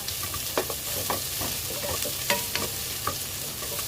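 Chicken and rice are stirred in a sizzling pan for Filipino valenciana, with a constant close frying hiss and repeated scraping strokes of the spoon at an uneven rhythm.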